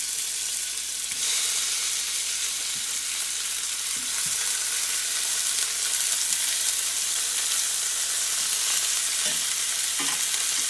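Beef back ribs searing in a hot pan, a continuous close, loud sizzle with occasional spatters and faint scrapes of a utensil as the meat is turned and moved.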